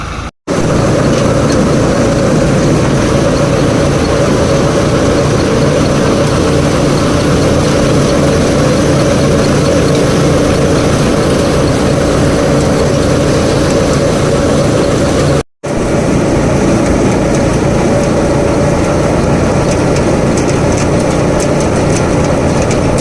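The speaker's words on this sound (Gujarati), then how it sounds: "આ ફૂંકણી છે ને ચાલુ થઈ ગઈ ને જીરું કાઢીએ" An Eicher tractor powers a National blower threshing cumin, making a loud, continuous mechanical drone with a deep engine rumble. The steady roar cuts out briefly once near the start and again partway through, with no voices.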